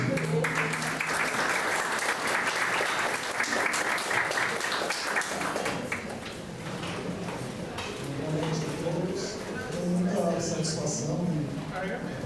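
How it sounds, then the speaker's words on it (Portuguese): Audience applause for a presenter introduced as an engineer at a São Paulo urban drainage publication launch, steady broadband clapping that eases after about six seconds as talk and room noise come forward. "Uma salva de palmas para o engenheiro."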